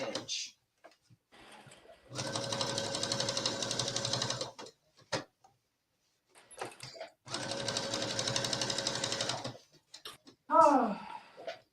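Two long, steady bursts of sewing machine stitching as a skirt facing is understitched, each running a couple of seconds with quiet pauses between, close and fairly loud, plus brief handling clicks and a short voice at the end.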